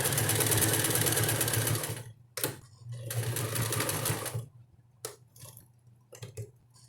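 A sewing machine stitches a double-sided diaper cover, running in fast steady bursts with brief pauses for a short reverse stitch, close and fairly loud, with no speech.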